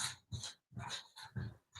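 Dogs pant in quick rhythmic bursts with faint whimpering mixed in, close and quiet, with no talk over them.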